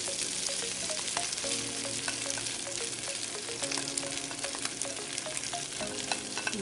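Sausage frying in a pan for a Grenadian meat loaf pastry, giving a steady, loud sizzle that fills the scene, with light scraping as it is stirred around and no talk.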